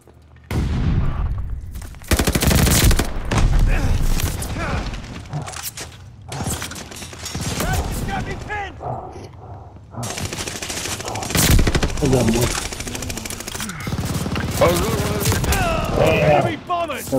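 Light machine gun fire in Call of Duty Vanguard, delivered as loud rapid bursts of automatic gunfire with booms and mechanical clatter, broken by short pauses, with game voices talking in between.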